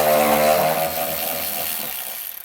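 Power tool running steadily while backing out a 10mm bolt at the bottom of a Tesla Model Y rear bumper; a loud, continuous whine that holds for about two seconds, then winds down and stops.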